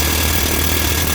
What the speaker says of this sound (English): Put the air hammer on.